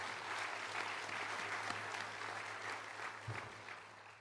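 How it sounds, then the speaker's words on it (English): A gala audience at a scholarship and awards dinner breaks into sustained applause, a dense, even wash of many hands clapping with no talking over it. "That deserves a round of applause."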